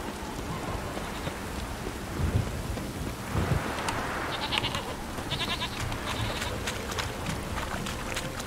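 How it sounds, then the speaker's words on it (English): Steady rainfall with low thunder rumbles in a Witcher 3 game storm, a continuous wash of rain across the clip with a few brief louder rolls and faint tonal game sounds layered in. "It's raining like cats and dogs here."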